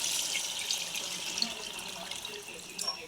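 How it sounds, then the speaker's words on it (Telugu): Water pours from a lota into a pot of chicken dum biryani as a steady, bright splashing stream that runs for several seconds, close and fairly loud. "ఇప్పుడు మనం వాటర్ పోసుకుందాం దీంతో నేను ఈ లోటాతో లోటా పోస్తున్నానండి"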